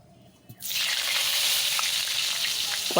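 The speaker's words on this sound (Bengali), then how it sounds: "কড়াইতে দিয়ে দিলাম পরিমাণ মতো তেল, আর দিয়ে দিচ্ছি এখন কিছু কেটে রাখা আলু" Cut potatoes drop into hot oil in a wok, setting off a sudden loud, steady sizzle that continues close and unbroken after a quiet start.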